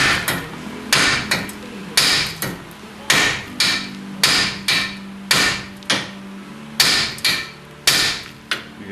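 Hammer striking the steering knuckle on a Ford Explorer front end during a rack and pinion replacement; about a dozen loud, sharp metallic blows in a steady rhythm, close up, with no talk.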